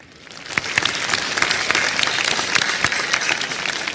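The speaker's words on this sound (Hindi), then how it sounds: "इस पे भी तालियां बज जानी चाहिए" An audience breaks into applause, building quickly to a steady, dense clapping that continues to the end.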